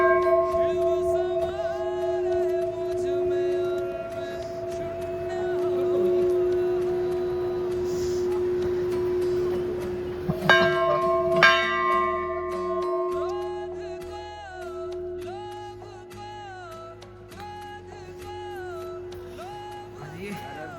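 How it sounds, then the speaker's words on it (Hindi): A temple bell at the Kalpeshwar Mahadev shrine, rung by a member of a visiting group, rings out with sustained metallic tones that linger and fade, followed by a second set of brighter struck rings partway through. "और यहाँ पर घंटी की आवाज़ आ गई है।"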